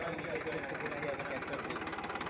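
A Massey Ferguson 1035 tractor stuck in a grass-filled field, its diesel engine running with a steady pulsing throb throughout.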